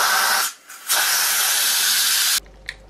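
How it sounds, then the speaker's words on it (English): Steam blasts out of a pressure cooker's release valve after cooking chili, a loud continuous hiss with a brief dip near the start, then cutting off abruptly, followed by a small click. "turn it off and release the steam valve"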